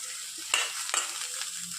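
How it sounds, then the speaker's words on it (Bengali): Cabbage dry-fried in an oil-free kadai, a soft sizzle under two or three distinct scraping stirs of the spatula against the pan, close and unaccompanied by talk. "কিন্তু শুকনা কড়াইয়ের মধ্যেই বাঁধাকপিটা একটু যা জল আছে বের করে নেবো, একটু ভাজা ভাজার মতন করে নেবো"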